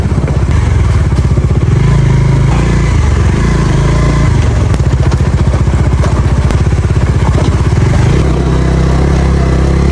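Motorcycle riding along an unpaved off-road dirt track in a village, a steady loud engine drone with rhythmic pulsing, occasional revs and clattering bumps throughout.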